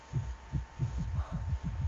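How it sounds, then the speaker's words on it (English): A steady heartbeat thumps in the horror video game White Day, low double-pulsed beats repeating roughly every third of a second, close and prominent over a faint background hum. "Ooh, ooh, ooh, heart beating."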